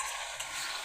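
Meat being stirred as it fries in a pan, a steady close sizzle with soft scraping, brief and with no voices.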